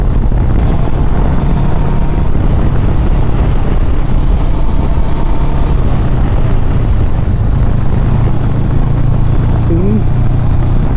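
A 2022 Honda CB500X adventure motorcycle on a test ride, its steady engine drone and wind rush filling the sound continuously at close range with no pauses.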